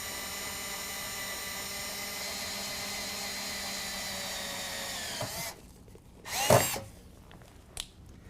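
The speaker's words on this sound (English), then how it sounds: "we're going to start with an 1/8 inch drill bit and drill through" A power drill fitted with an 1/8 inch bit bores through metal on a 2019 Ram 1500 during a running-board install, a loud steady whine lasting about five seconds, then stopping, followed by a brief burst and a small clatter.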